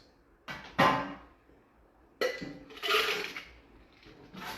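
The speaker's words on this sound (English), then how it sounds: "give ourselves a nice healthy scoop of ice" Ice scooped into a cocktail shaker, heard as two separate rattling, clinking bursts of cubes tumbling into metal, close and fairly clear against a quiet background.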